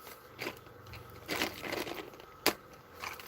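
Long acrylic nails being cut with scissors give a few crunchy snips, with one sharp, loud clip near the end over a faint room hum.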